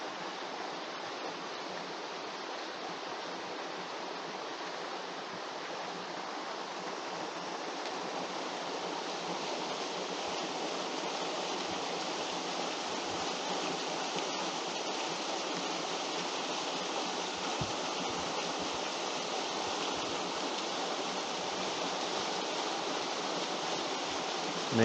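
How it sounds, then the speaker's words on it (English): A waterfall at Noisy Bay on Lake Superior, Ontario, pours in a steady, broadband rush, continuous and even for the whole stretch, at moderate distance with no voices. "Main waterfall here, and one further along."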